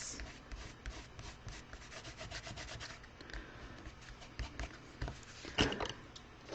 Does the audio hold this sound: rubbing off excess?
yes